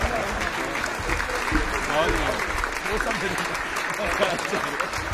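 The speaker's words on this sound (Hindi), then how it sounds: "एक बार ताली होनी चाहिए रहमान साहब के लिए जोरदार।" Audience applauding a poet at a Hindi-Urdu poetry recital, a steady dense wash of clapping that lasts the whole stretch, with voices and crowd murmur mixed underneath.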